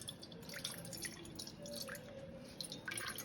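Water dripping and splashing faintly as ingredients for a home cold and cough remedy are rinsed clean, soft irregular drips and trickles close by in a quiet room.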